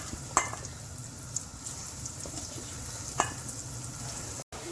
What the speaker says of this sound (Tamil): இப்போ நாங்கள் இதை பொரிச்செடுக்க போகிறோம்.